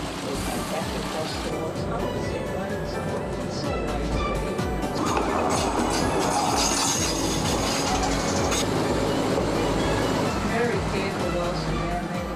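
A heritage timber-hauling tramway train runs along the line, with a steady rumble, clickety-clack of wheels and some squealing throughout, while a voice talks over the rolling noise.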